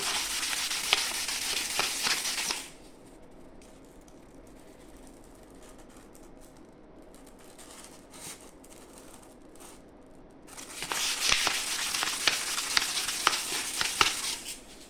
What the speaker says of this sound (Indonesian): Coba kita kasih amplas 2000,